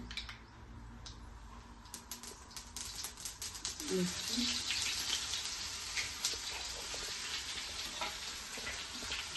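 Mustard seeds and cumin sizzling in hot oil in a pan, a steady crackling hiss with scattered sharp pops that builds after a few seconds and holds close and fairly loud.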